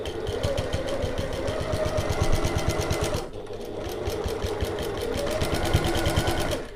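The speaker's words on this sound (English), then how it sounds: "Pop them under the presser foot," A sewing machine stitches a tote bag panel in a loud, continuous rapid rhythm, pausing briefly midway before running steadily on.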